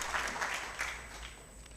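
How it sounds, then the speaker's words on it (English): A seminar audience gives a short round of applause, faint and somewhat distant. The clapping is densest at the start and then tapers off within a couple of seconds. "Let's clap on for them"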